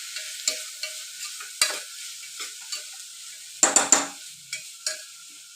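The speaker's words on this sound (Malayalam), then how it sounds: "പച്ചമുളക് ഇത്രയും ഇട്ട് കൊടുക്കാം. നല്ലപോലെ വഴറ്റി കൊടുക്കണം." Green chillies with beans and tomato sautéing in a pan for vegetable biryani, a soft sizzle broken by repeated spoon scrapes and clinks against the pan, close and fairly quiet, no talking.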